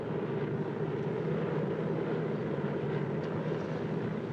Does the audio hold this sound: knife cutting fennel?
no